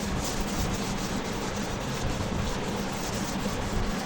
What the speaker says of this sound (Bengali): বেসিনটা পরিষ্কার করতেছি বেসিনটা অনেক ময়লা হয়েছে